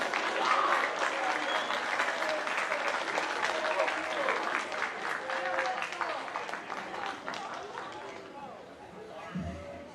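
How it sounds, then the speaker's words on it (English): Students and families at a middle school awards assembly applaud steadily, the clapping thinning toward the end while crowd chatter and voices murmur beneath it. "Another round of applause."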